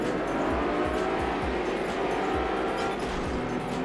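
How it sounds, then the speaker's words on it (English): Several upgraded Lamborghini Miura engines roar together in a one-make race in the PS2 game Test Drive Unlimited, a dense continuous engine drone with rhythmic pulses and faint tire squeal, loud and steady throughout. "All I can hear is Lamborghinis everywhere."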